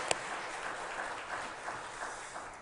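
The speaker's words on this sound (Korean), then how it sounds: "박수로 축복해 주시기 바랍니다." A church congregation at a Sunday service claps together in a steady, even patter of many hands, heard from a distance at low volume and without speech.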